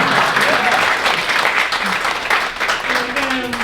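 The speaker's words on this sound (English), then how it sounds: "You can clap," Audience applause fills the room, a dense continuous wash of many clapping hands with crowd voices mixed in, loud throughout.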